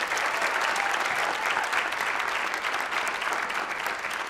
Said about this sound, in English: Please help me in giving a big round of applause to congratulate the first half of tonight's City of Destiny Award recipient.